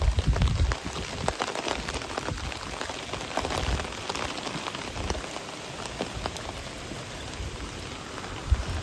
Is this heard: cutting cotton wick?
no